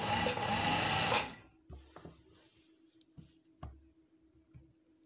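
Sewing machine stitching a shirt, a loud continuous mechanical whir for about a second, then stopping, followed by quieter clicks and handling knocks.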